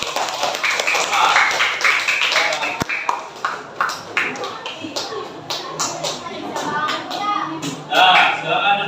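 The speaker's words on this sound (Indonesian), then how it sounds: "beri tepuk tangan untuk apa?" A group of children in a sixth-grade Islamic religious education class clap together, a dense burst of scattered hand claps close by, with young voices and chatter mixed in throughout.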